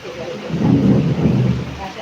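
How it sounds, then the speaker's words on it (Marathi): Deep rolling thunder rumbles through steady heavy rain, swelling in the middle and staying loud for the whole stretch. "पहा विजा गडगडात होत आहे"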